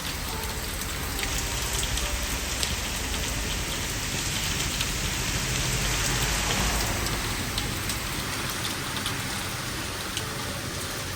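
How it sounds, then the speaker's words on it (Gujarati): Heavy rain pours steadily with a dense, continuous hiss, close by and loud, no voices present. "એટલો વરસાદ પડે છે"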